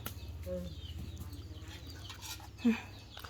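Chickens cluck softly near a farm field, several short calls scattered over low background noise, with one louder cluck near the end and some distant voices.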